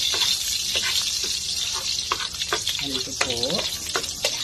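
Garlic sizzles and crackles in a hot frying pan for Filipino garlic fried rice, a steady close hiss with stirring scrapes, while someone speaks briefly over it.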